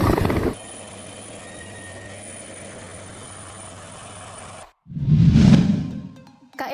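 A medium-heavy helicopter built under Airbus license by PT Dirgantara Indonesia, heard as a steady droning whir that cuts off and then returns as a loud, low whooshing rotor pass.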